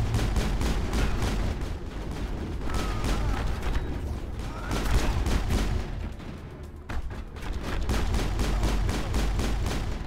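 Gunfire from the Mass Effect video game rattles in loud, dense, continuous volleys of rapid shots with brief lulls, sounding close and sustained throughout.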